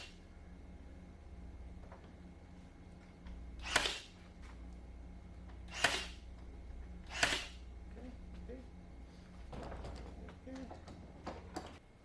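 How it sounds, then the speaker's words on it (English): A brad nailer fires brads into a wooden game table board: three sharp, separate pneumatic snaps a couple of seconds apart, close and distinct over a low background hum, with light handling clatter after. "And shoot brads in that one as well."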